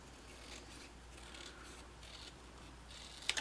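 Scissors snip quietly through paper card, trimming the edge of a pop-up Halloween greeting card in a series of soft, close cutting strokes with a couple of sharper clicks at the end.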